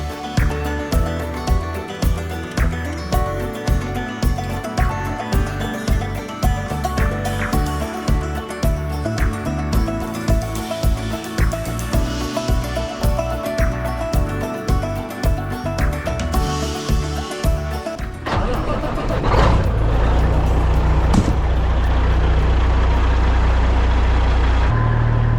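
A Kenworth truck's diesel engine cranks in a fast rhythmic chug for many seconds, then catches and settles into a loud, steady rumbling idle close by.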